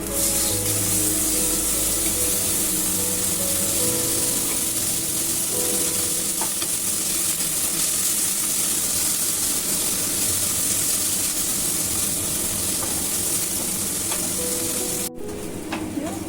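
Boiled cauliflower florets frying in a hot pan give a loud, steady sizzle and hiss that continues unbroken throughout.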